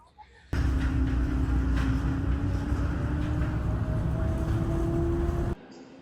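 Riding a Seattle light rail train, a loud steady rumble of wheels and motor fills the cabin, with a rising whine building over about five seconds before cutting off abruptly.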